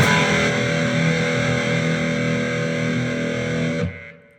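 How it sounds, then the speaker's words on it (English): A fat, heavily distorted electric guitar power chord rings out loud and sustained for nearly four seconds, then is cut off abruptly and fades away, with no one talking over it. "I'm just gonna play those 2 together to get this fat fucking power chord sound."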